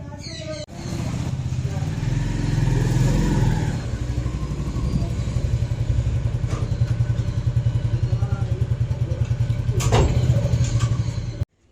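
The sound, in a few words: motorcycle being ridden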